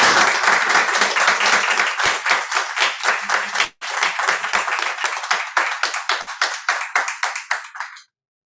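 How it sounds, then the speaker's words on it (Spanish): A seated audience at an autumn colloquium applauds the panel with sustained, lively hand clapping. It dips for an instant midway, then continues and gradually thins into separate claps before stopping abruptly. "voy a pedir un aplauso para esta mesa"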